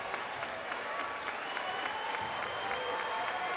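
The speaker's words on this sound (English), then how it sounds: "A lot of clapping, a lot of encouragement now" Spectators in an arena clap steadily during a varsity basketball game between Centerville and Fairmont, a fairly faint, even crowd patter.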